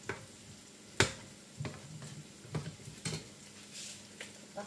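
A tofu dish being stirred in a pot on the boil, several distinct clinks and scrapes of a utensil against the pot at irregular intervals over a quiet simmering background.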